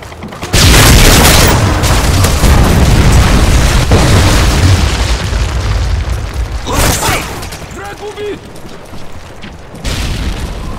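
A SAM turret is destroyed in the video game Modern Warfare 3, a loud, dense booming blast that sustains for several seconds, then fades out before another burst of explosion noise near the end, all heard without talk.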